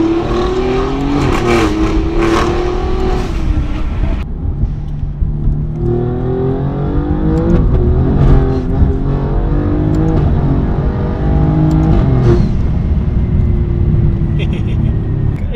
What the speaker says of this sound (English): Going for a bit of a test drive to see how it sounds on the road.